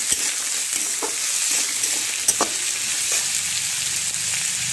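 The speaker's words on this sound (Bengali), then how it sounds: "নেড়ে নিচ্ছি" Sliced banana stem (thor) sizzles steadily in a hot pan while being stirred, with a constant loud frying hiss and occasional sharper scrapes and clicks of the spoon against the pan.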